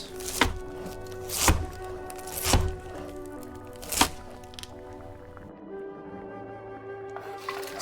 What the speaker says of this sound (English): Vegetables are chopped.